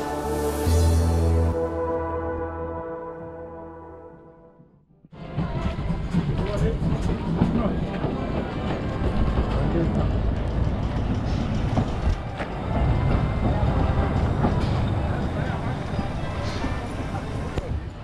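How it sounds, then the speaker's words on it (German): Narrow-gauge steam locomotive of the Zittau line running around its train at the Oybin terminus: a loud, steady rumble and clatter of running gear and steam fills most of the span, with voices talking nearby. "können uns jetzt hier kurz erstmal das Umsetzen der Lok anschauen"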